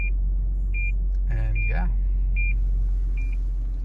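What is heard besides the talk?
car parking sensor beeping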